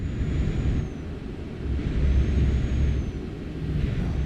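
A truck slows down in Euro Truck Simulator 2, with a steady low engine drone and a soft airy brake hiss layered on top. The sound is continuous and fairly loud, with no voices.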